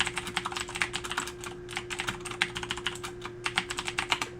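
Rapid, close-up typing on a computer keyboard, a dense run of crisp key clicks in bursts with short pauses and a faint steady electrical hum underneath, no talking.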